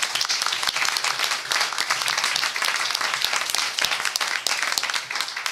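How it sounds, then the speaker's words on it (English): Audience at a school district board meeting gives a round of applause, with many hands clapping in a brisk, crackling burst that stays steady throughout. "So give them all a round of applause."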